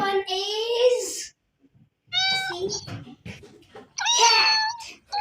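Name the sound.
cat meowing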